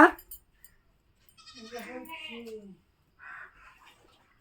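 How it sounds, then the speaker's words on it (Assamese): A few goat bleats, wavering and fairly close, separated by quiet gaps, with a soft voice briefly at the start. "ছাগলীকেইটা লৈ আহিলোতো মই"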